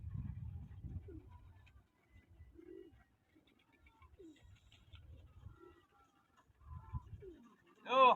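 Pigeons coo softly in a few low, rolling bursts spread across a quiet outdoor scene, with a brief louder flutter at the end and faint talk nearby.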